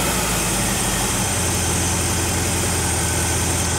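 A Chevrolet C10 truck engine idles close by with a steady, deep rumble, its pitch dropping slightly early on as the idle is pulled down, then holding even with no talking.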